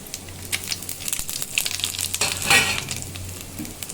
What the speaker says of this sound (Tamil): எல்லாத்தையும் பொண்ணுறது வறுத்துக்கலாம்.